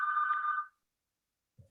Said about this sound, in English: sorry, that phone is ringing